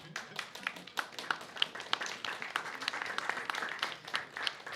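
Audience applause at a literary event presenting fantasy and science fiction authors, a moderate, sparse crowd clapping with distinct individual claps audible in an uneven, continuous patter.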